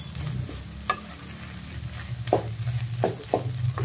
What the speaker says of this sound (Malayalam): ഇനി നമുക്കിത് നന്നായിട്ടൊന്ന് ഇളക്കി യോജിപ്പിക്കാം